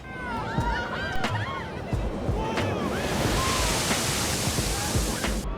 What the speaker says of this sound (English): Up here is where I place that water feature.